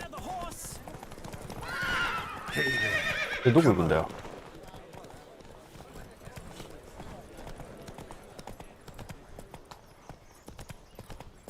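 In The Witcher 3 video game, a horse whinnies loudly and shrilly at a race start, then hooves clip-clop in a quick galloping rhythm that fades to a fainter, steady patter, with someone speaking briefly over it.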